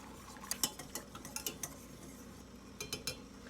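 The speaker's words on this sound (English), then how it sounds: "And all you're going to do is whisk, whisk, whisk." A whisk scrapes and clinks against a metal pot while thickening beef bourguignon sauce, producing a quiet, irregular series of light metallic taps and stirring strokes, close up with no talking.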